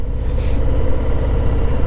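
Stock exhaust on a Harley-Davidson Low Rider S motorcycle, a loud, steady low rumble up close, running continuously with no talk over it.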